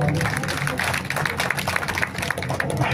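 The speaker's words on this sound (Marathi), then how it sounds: "हा टाळ्यांचा कडकडाट याच्यासाठी की" Loud, sustained applause from an audience of farmers and dignitaries at a gathering, dense clapping running steadily throughout without pause.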